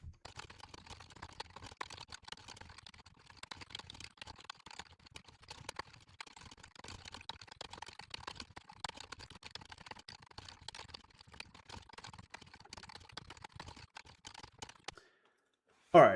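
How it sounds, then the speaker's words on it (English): Fast, continuous typing of Rust code on a computer keyboard, with quick irregular key clicks close to the microphone for about fifteen seconds before a brief pause. "let's type out the following"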